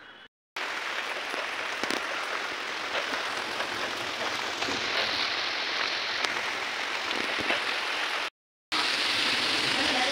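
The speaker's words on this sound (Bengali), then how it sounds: "অবশেষে বৃষ্টি নামিছে" Light rain falling on an outdoor courtyard, a soft steady patter of drops heard alone and faint, continuous apart from two brief gaps.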